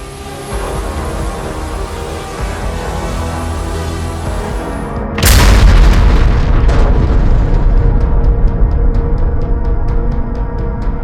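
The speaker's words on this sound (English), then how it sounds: "Ukrainian forces successfully destroyed a Russian BM-21 Grad multiple rocket launcher system" A destroyed Russian BM-21 Grad multiple rocket launcher erupts in a single heavy, loud blast midway, after steady droning noise, with a rumbling roar and repeated crackling pops of cooking-off munitions continuing afterward.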